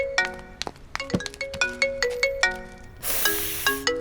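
A bright electronic phone ringtone plays a quick melodic run of chiming notes, loud and close, with no one speaking.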